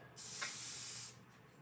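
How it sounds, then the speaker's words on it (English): Teat spray hisses from a dairy post-dip sprayer bottle of Fight Back, a lanolin teat dip, in one steady burst lasting about a second, close and fairly loud. "And then we use for post dip this Fight Back spray."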